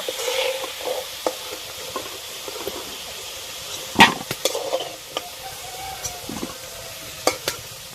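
Potatoes in hot oil being stirred and lifted out of the pan: a soft steady sizzle broken by scattered spoon clinks and scrapes, one louder knock near the middle, close up with no voices.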